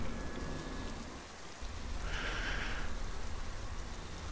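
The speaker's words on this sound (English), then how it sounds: "Okay, that's just the rain effect." Steady rain ambience from the horror video game Trenches, a continuous dense hiss of falling rain with a brief brighter swell partway through, heard alone without any voices.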